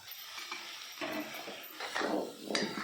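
Spoon stirring chilli powder, red chilli powder and turmeric in a pan for a gourd and eggplant curry, with soft scraping and light sizzle in short, uneven strokes, close and moderately quiet.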